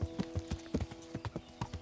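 Hooves of a horse in the video game Kingdom Come Deliverance clip-clop in a quick, even rhythm, close and distinct, with no talk over them.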